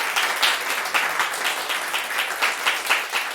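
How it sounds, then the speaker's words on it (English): Steady audience applause at a tech meetup event, a dense continuous patter of many hands clapping at moderate loudness with slight surges, and no voices over it. "let's give them one more round of applause."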